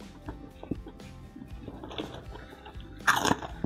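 Crunchy kerupuk crackers are bitten and chewed alongside rice and salted fish in a sequence of close, crisp crunches, with a louder burst of crunching near the end.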